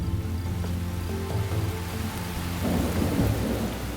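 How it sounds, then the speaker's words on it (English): Heavy rain pours down steadily in a wild savanna setting during a November storm, with deep rolling thunder rumbling underneath and the downpour growing louder toward the end. "The rain falls harder than usual."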